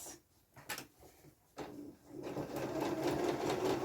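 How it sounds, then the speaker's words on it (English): A sewing machine runs a short straight line of stitches across a 1 cm seam allowance on a dress panel, starting in a few quick bursts, then settling into a steady, close whirring stitch. "within the 1 centimetre seam allowance I'm just going to sew straight across those"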